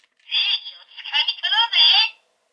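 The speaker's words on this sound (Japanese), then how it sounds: "オイラの勘の言う通りで選択音が鳴りますから、トリガー。" A DX Good Striker toy's electronic selection sound plays as a burst of tinny, high-pitched synthesized tones and voice-like chirps, lasting about two seconds, close and fairly loud.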